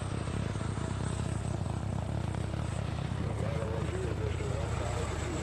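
A Comanche military helicopter drones in a steady, heavy rotor and engine roar that holds at constant loudness throughout, with no breaks or pauses.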